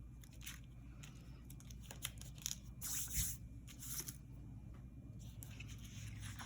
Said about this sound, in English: cut off the excess in line with the card